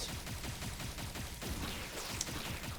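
Weapon fire in the video game Mycopunk crackles as a rapid, dense stream of shots, continuous and fairly loud across the whole stretch, with no voice over it.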